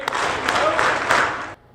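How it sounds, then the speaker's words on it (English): An audience at a charity gala claps in unison on cue, a dense run of claps blending into a steady burst of applause that stops abruptly. "Give me 4 claps."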